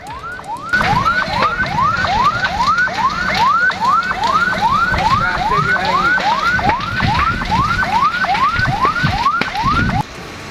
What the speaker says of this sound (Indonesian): Dua unit mobil pemadam kebakaran dikerahkan ke lokasi.